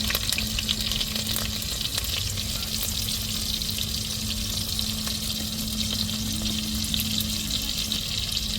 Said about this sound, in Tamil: அடுத்தது தாளிப்புக்கு வெங்காயம் சேர்த்துக்கிடுவோம்.